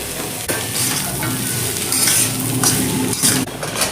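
Hit of sizzling and stirring as beans, chickpeas and carrots fry in hot oil for a mixed winter vegetable dish, with a utensil scraping the pan in bursts; loud and close, no voices.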